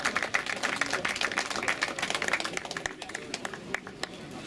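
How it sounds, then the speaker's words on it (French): Audience applause at a junior cycling race prize ceremony in Tressignaux, a steady wash of many hands clapping at moderate distance, fading slightly toward the end. "Sous vos applaudissements, s'il vous plaît, donc, pour le coureur de Pierre Giquel."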